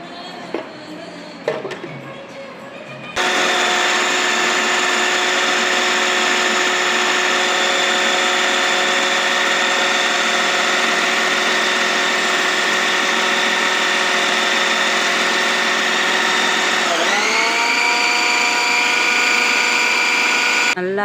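A kitchen mixer grinder grinding coconut, a sharp start after a few seconds of faint handling noise, then a loud, steady motor whine close by that shifts pitch briefly near the end before cutting off.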